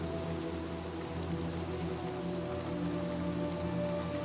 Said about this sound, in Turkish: Yağmur falan bu arada bayağı tatlı ya.